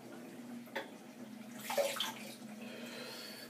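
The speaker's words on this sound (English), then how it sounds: "Now, excuse me, I'm just going to drain this water." Water drains from a shaving basin with a soft, steady gurgling and trickle, faint and close, with a slightly louder splashy swirl midway.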